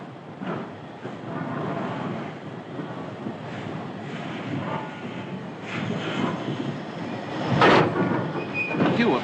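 Trains at Waterloo Station in London in 1939, a busy rumbling railway terminus with rolling carriages, hissing and clanking, including a sharp burst of steam near the end.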